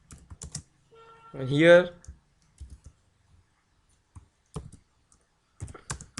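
Computer keyboard typing while writing code, heard as sparse clusters of close, crisp key clicks separated by pauses, with a brief spoken phrase in between.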